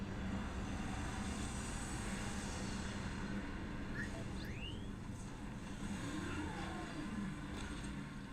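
Spaceship thrusters roar at takeoff in the video game Starfield, a steady low rumbling drone that holds throughout, with a few faint rising synthetic chirps layered over the engine noise.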